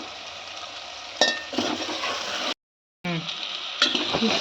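Tomatoes sprinkled with turmeric fry in a pan for tomato bath, giving a steady close sizzle with brief stirring scrapes and a short gap of silence midway.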